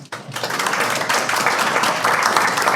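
Audience applause at Tomorrow's Africa Summit, a dense wash of clapping that rises quickly after a brief pause and stays steady and fairly loud to the end.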